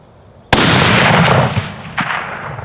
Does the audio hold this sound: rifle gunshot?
yes